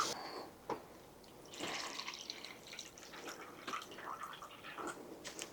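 Water runs and splashes into the measuring cup of a Philips 7000 Series pasta machine, a soft, irregular trickle with bright splashy bursts, close but quiet, with no talk.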